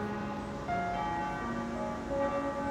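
Church bells ring steadily, their long sustained tones overlapping and humming on, fairly loud with no voices.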